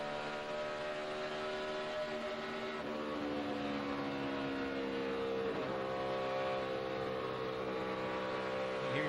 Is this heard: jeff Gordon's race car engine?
yes